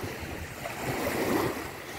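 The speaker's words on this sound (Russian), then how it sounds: "Сегодня ветер, поэтому волны." Wind-driven sea waves at St. Petersburg near the Lakhta Center on a breezy, sunny August day, with a continuous close wash of surf and some wind rumble on the microphone.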